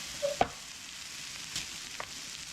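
Sausage with red and green peppers and green beans sizzling in a pan, a steady fry hiss throughout with a few brief clinks and stirring scrapes, no voices.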